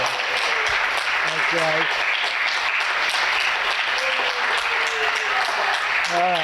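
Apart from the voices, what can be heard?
applause at a town meeting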